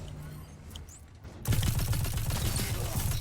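Rapid gunfire from a weapon in Destiny 2 during a long-range fight, a dense loud burst of repeated shots starting partway through after a quieter stretch, continuing steadily to the end.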